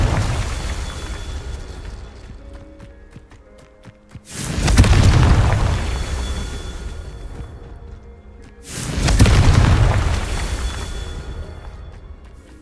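Confringo and Incendio spell blasts in the Hogwarts Legacy video game: two loud, deep booming explosions a few seconds apart, each with a long rumbling decay, set against quieter game ambience.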